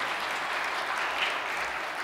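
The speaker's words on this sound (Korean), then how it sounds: "큰 박수로 모셔주시기 바랍니다." Audience applause welcoming a speaker at a ceremony, a steady, dense wash of clapping from many hands that holds evenly throughout.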